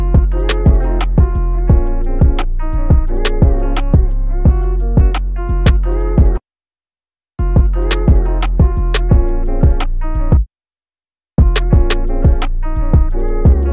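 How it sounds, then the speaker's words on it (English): Hip-hop trap beat built in FL Studio with a punchy snare from the Formula drum kit, bouncing over deep bass and melodic keys; the loop plays loud and steady, dropping out twice for about a second each before resuming. "Now I got the diplomatic snare, also from the Formula drum kit, and I'm just going to use it to add a little bit of bounce in the beat."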